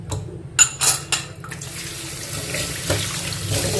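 Mutton being washed under a running kitchen tap: a few splashy bursts at first, then a steady stream of water filling and rinsing in a sink, close and moderately loud.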